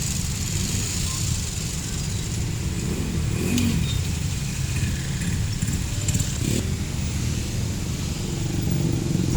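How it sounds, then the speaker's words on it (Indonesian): A large bus engine rumbles steadily nearby at an agent's stop, building slightly as it moves off, with faint clatter and background street noise. "Bus akan segera melanjutkan perjalanan."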